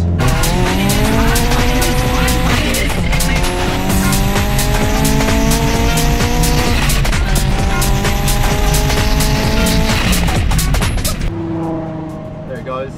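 A 412 hp VW Lupo with an Audi S3 turbo swap accelerates hard, a loud, strained engine rising through the revs with tire squeal, close and continuous before cutting off abruptly near the end.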